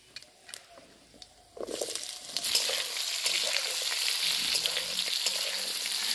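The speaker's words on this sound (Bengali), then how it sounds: "কেটে রাখা আলু আর পেঁপে দিয়ে দেবো।" Cut potato and papaya go into hot oil that was used for frying tilapia, a quiet start giving way to a loud, dense, close sizzle with stirring scrapes that keeps running without talk.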